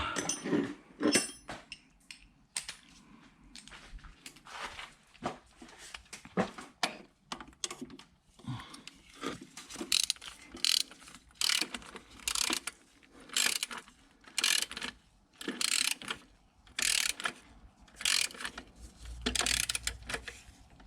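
A ratchet wrench on an extension turns bolts while an engine is installed in a Suburban, giving repeated bursts of quick clicking strokes separated by short pauses, close and fairly loud.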